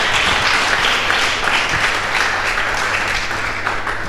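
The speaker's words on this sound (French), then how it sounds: "Des applaudissements pour eux." Dense, sustained applause from the crowd at a youth forum's first-anniversary event, loud and steady throughout with no speech over it.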